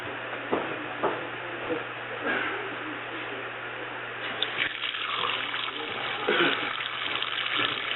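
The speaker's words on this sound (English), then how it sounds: "I'm putting my own water in with my trusty little blue Walmart water hose" Water gushes steadily from a small blue garden hose into a washing machine drum, a continuous splashing rush with occasional knocks and birds faintly in the background.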